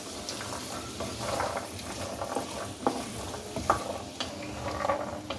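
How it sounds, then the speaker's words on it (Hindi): Mutton pieces, two large carrots and two medium potatoes fry in hot oil in a pan, giving a steady close sizzle with brief scrapes and clinks of stirring. "2 बड़ी गाजरें और 2 मीडियम आलू, उनको उसमें डाल दें और इनको फ्राई कर लें"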